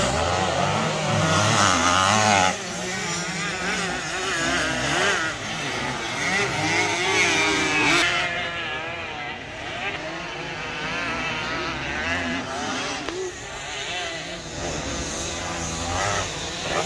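A 1989 Honda CR500R two-stroke motocross bike racing at a classic motocross event, its engine wailing and revving continuously up and down through gear changes, close and loud, with other bikes mixed in behind it.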